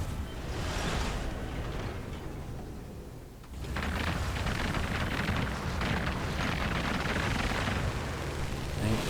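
Explosions from air support in War Thunder, a German tier-3 Jagdpanzer 38(t) Hetzer tank destroyer battle: a dense, roaring rumble of blasts fills the scene, dipping briefly before a heavy burst surges back and sustains loudly.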